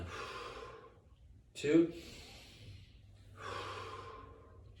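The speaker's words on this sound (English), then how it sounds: "So we're going to inhale, exhale" During a balance exercise a person takes a sharp, audible breath in and then breathes out, close and fairly loud, while someone speaks briefly around it.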